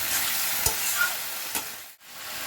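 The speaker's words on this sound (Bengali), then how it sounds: "এটা আমি অল্প অল্প জল দিয়ে ভালো করে কষিয়ে নিয়েছি।" Coriander chicken being stir-fried in a pan with a little water, giving a steady close sizzle broken by a few utensil scrapes and a brief pause near the end.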